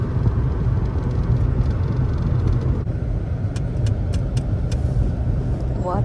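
A car driven on a test drive to diagnose a fault that shows when turning, with a steady engine and road rumble from inside the cabin and a few faint clicks, while people talk over it.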